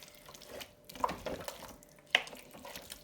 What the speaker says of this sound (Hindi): तो चले मैं पानी डालती हूँ 1/4 कप